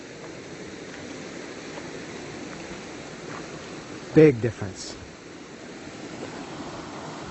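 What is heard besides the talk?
river water flowing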